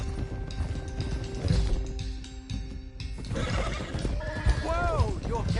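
Horses in the Red Dead Redemption 2 video game whinny loudly in rising, wavering calls over the running clatter of hooves, with rattling and other game sounds underneath.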